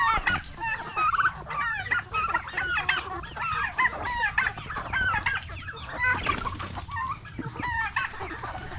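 Young chickens about three months old, once chicks, cluck and chirp steadily in a flock, with a dense layer of overlapping calls close by and no talk.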